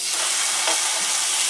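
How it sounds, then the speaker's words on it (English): Beef and pork sizzle steadily in a hot skillet, a continuous close hiss of frying meat with no voices over it. "Hot skillet here. The first thing we want to do is burn off some meat."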